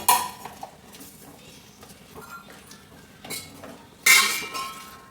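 A spoon stirs crab curry in a metal pot, making irregular clinks and scrapes against the pot, with a sharper clang near the end.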